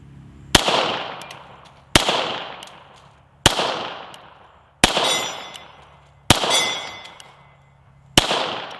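Six single shots from a Hudson H9 pistol at a 25-yard range, loud sharp cracks spaced about one and a half seconds apart, each with a decaying ring, no talk.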